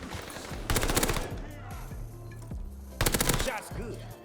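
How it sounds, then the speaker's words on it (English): Rapid bursts of PPSH-41 submachine gun fire in the video game Call of Duty: Vanguard, two short sharp volleys with quieter game sounds and faint chatter between them. "I think it's the fastest killing SMG if you were to shoot them in the limbs or anywhere."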